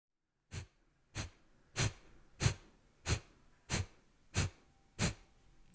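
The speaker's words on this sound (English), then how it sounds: "we're pumping the torso on the exhale, and the inhale just becomes passive" Eight sharp, forceful exhales through the nose, pumping the torso in Kundalini yoga breathing, in an even, rapid rhythm, about one every two-thirds of a second, close and alone.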